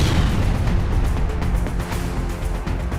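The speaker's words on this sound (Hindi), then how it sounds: "तेज विस्फोट के साथ कई फीट ऊपर तक लावा उछल जाता।" Volcanic eruption in Guatemala, with explosive blasts hurling lava upward; a continuous loud rumbling roar with repeated bursts and pops throughout.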